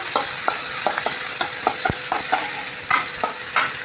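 Green chilies sautéing in a pan for chicken kulambu give a steady close sizzle, broken by regular light clicks and scrapes of a spoon stirring every half second or so.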